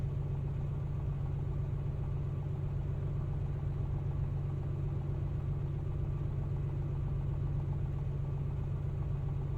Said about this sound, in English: Gonna be heating up the engine for quite some time,